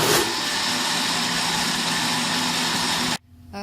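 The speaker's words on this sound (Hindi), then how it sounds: "और अब हम इसको जो है वो ब्लेंड कर लेंगे और इसको अच्छी तरह ब्लेंड करेंगे" Blender whirring loudly and steadily as it blends coconut for coconut milk, then cutting off abruptly near the end, leaving a faint hum.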